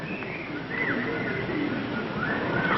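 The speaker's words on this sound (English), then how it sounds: "Spring is here. Listen to the birds." Birds call and coo as a spring sound effect in a 1950s television studio, faint chirps and dove-like coos over a muffled, noisy background.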